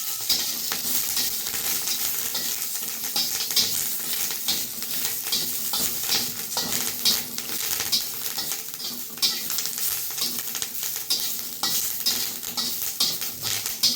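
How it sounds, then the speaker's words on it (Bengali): Curry leaves sizzle steadily in hot ghee, a dense crackling spatter running throughout with occasional faint clinks of a utensil against the pan, no voices. "এই ঘিয়ের মধ্যে কারি পাতা ফোড়ন দিয়ে খেয়ে দেখো"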